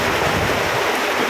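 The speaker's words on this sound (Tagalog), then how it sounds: "Grabing lakas ng ulan guys." Dense, steady hiss of heavy rain pouring down, constant and loud with no pauses or voices.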